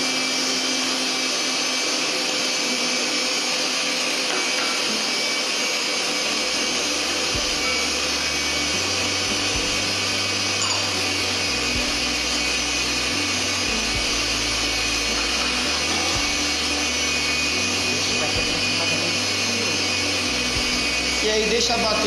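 An electric mixer beats cake batter with sugar for a pot cake, giving a loud, continuous motorized whir with a low, shifting drone that changes as the batter thickens over about twenty seconds.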